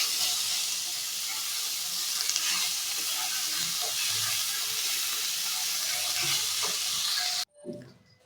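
Methi greens with eggplant and beans frying in a pan, tempered with radhuni, black cumin and dried red chilli, a loud continuous close sizzle and hiss with stirring scrapes that cuts off abruptly near the end.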